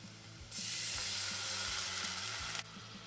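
Apple cider vinegar poured into a hot pan for Tennessee whiskey barbecue sauce bursts into a loud, close hiss and sizzle that holds for about two seconds, then cuts off abruptly, over a low background hum.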